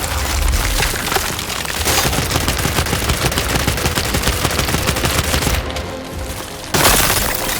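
Dense, loud gunfire from the video game Gears 5 pours out as continuous rapid-fire bursts and booming cracks, close and relentless, with a brief lull near the end before another heavy burst.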